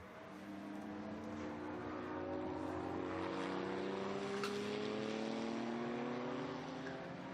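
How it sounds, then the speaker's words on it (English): Historic race cars, a Corvette and a Porsche running close together at the Estoril Classics, pass in a sustained, loud engine roar with rising and falling pitch and gear changes, heard throughout. "Corvette and Porsche still running close together."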